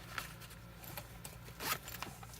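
A small zipper pouch on a Bible journal being zipped, with a few short scratchy runs of the pull, the most distinct one near the end, close and fairly quiet over a low steady hum.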